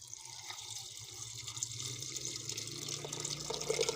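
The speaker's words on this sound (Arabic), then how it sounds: "هحط عليها ميه عاديه خالص ساقعه" Cold water runs steadily into a pot from a tap, a continuous splashing pour with a gurgling rise near the end.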